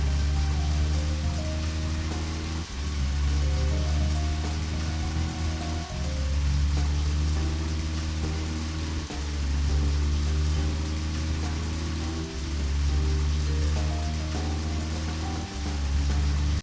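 Steady rain in Deadly Premonition, a continuous hiss of falling water over a low rumbling drone with repeating tonal music, filling the scene without any talk.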